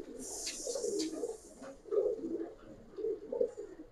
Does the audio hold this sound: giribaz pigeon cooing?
yes